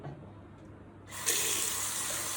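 A tap is turned on partway through, and water runs steadily and loudly into a sink after a short, quiet lead-in.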